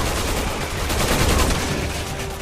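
Gunfire in the video game Resident Evil 6 on PS3, aimed at a sniper: a dense run of rapid shots forming a continuous loud burst, close, with no talking.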